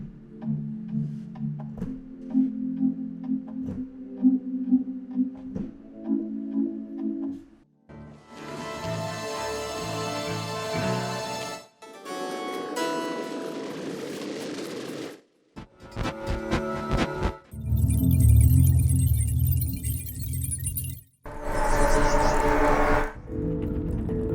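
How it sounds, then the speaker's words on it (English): Sustained synthesizer tones shift through a series of changing chords and textures, some soft and low, others bright and dense, with brief gaps between phrases. "this is actually a good example of a completely playable tonal pad"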